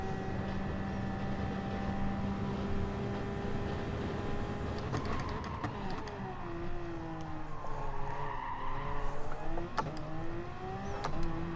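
A car accelerates out of a corner with brief wheel spin, the engine note rising and falling in sweeps alongside a faint tire squeal, with a few sharp clicks near the end.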